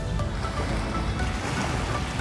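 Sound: sea waves at Manila Bay

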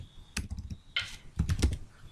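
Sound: typing on a computer keyboard

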